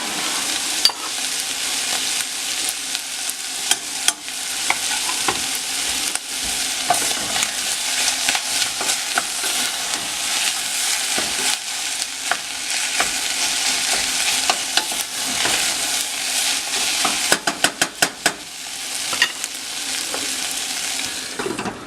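Garlic fries for chile verde, a bright continuous sizzle broken by scraping stir strokes and a quick cluster of sharp clicks near the end, close and fairly loud.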